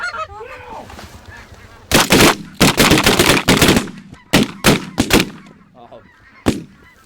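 Canada geese honk loudly and close during a goose hunt as bursts of shotgun blasts ring out in quick clusters, then the honking thins and fades with a last shot.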